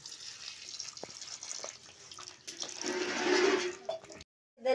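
Water splashes and pours steadily into a cooking pot of drumstick curry, building to a fuller rush before cutting off abruptly.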